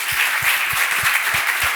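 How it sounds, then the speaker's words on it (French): An audience applauds at the end of a French conference talk on balance and imbalance, a dense, loud, even wash of many hands clapping, with soft low thumps recurring at a steady beat beneath it. "on peut vous applaudir une nouvelle fois"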